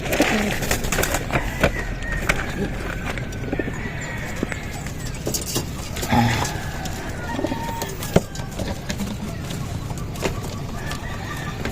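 Domestic pigeons kept in a backyard loft coo and flutter over steady background noise, with scattered bird calls and a person talking nearby.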